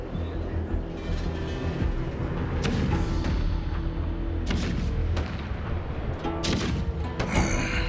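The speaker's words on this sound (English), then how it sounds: "Do you hear that? The rumble of the cannons." Deep, continuous rumbling of cannons in a battle scene from the video game Honkai: Star Rail, with loud booming thuds and heavy blasts breaking through the constant low roar.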